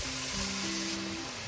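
Onions frying in a hot pan beside meat for burritos, a steady loud sizzle with a faint low hum under it, close up and without talking.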